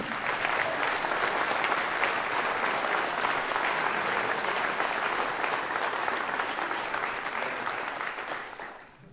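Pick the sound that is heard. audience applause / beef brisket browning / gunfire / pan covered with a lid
audience applause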